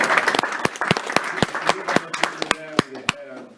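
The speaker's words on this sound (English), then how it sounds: "Should we give Gus a round of applause for keeping something" A studio audience claps in a burst of applause, loud and close with sharp individual claps, at a 2014 World Cup pundits' question-and-answer event.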